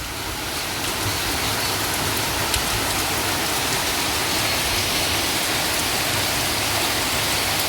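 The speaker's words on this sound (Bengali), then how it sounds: "বেশ ভালো জোরে বৃষ্টি হচ্ছে" Dense, loud roar of heavy rain pouring down steadily, a constant wash of noise with no pauses or voices.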